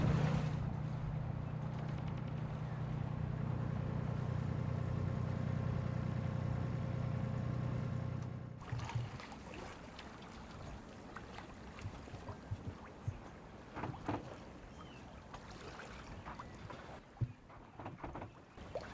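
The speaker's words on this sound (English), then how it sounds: "We're sailing slowly with only the head sail along the Danish coast." A sailboat moving slowly under headsail along the Danish coast in gusty wind: a steady low engine-like hum for the first eight seconds, then softer water lapping and creaks with occasional knocks, fairly quiet throughout.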